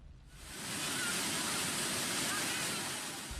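A strong river current at a village in Pacitan rushes as a loud, steady broadband roar that swells in within the first half second and holds constant, with no voices.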